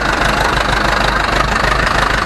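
The engine of an Ursus C 360 farm tractor runs loud and close, a steady rough diesel knocking drone with no break for the whole short stretch.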